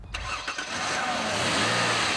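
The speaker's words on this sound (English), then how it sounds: "Powering the Explorer is a strong single overhead cam 4-litre engine" A Ford Explorer's single overhead cam 4-litre engine cranks and catches, then settles into a steady, even mid-pitched run heard up close.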